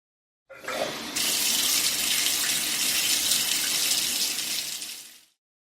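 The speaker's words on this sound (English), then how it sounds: "By turning the knob, he turns the water on." Shower water turned on from a tap, a brief knob squeak then a steady loud rush of spraying water for several seconds before it cuts off.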